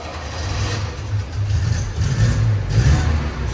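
A car engine revs through its exhaust with a deep, throaty rumble that swells and eases in a couple of waves, close and loud, with no talk.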